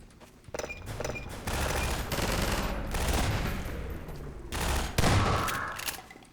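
Bursts of automatic gunfire in Half-Life 2, several loud volleys of rapid shots separated by short pauses, close and heavy with echoing battle noise around them.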